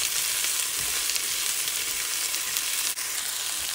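Carrots frying in a pan give off a steady, close hiss and sizzle that holds constant throughout, with a brief faint clatter near the end.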